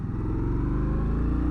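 An Indian Scout Bobber's engine revs loud and close, a deep throbbing rumble holding steady with a pulsing low-end beat throughout.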